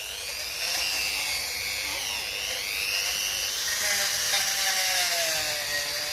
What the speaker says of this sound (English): We have the Dremel ready to go, and we'll just give that a quick clean